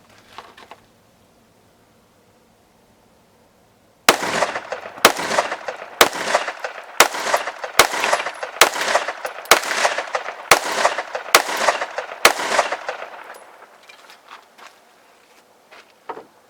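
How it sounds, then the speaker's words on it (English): Rapid shots from a CZ 75 P-01 9mm carry pistol at a range, about ten sharp cracks in a quick, steady string after a few quiet seconds, loud and close. "Move up to one of my carry guns, my CZ 75 PO1, another 9mm."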